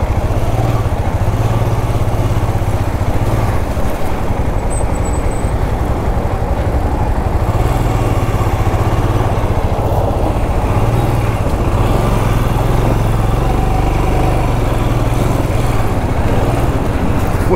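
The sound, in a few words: adventure motorcycle ridden slowly in first gear on rough road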